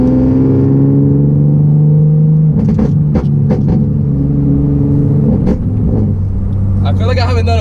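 A loud tuned Nissan 370z drones steadily while driving, its deep engine tone shifting as the car accelerates and eases off, with someone talking over it throughout.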